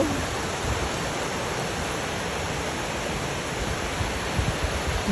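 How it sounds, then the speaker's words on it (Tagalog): Ladsudan Falls pours in a steady, dense roar of rushing water, loud and unbroken throughout, with no voices over it. "Tingnan mo naman ang Ladsudan Falls."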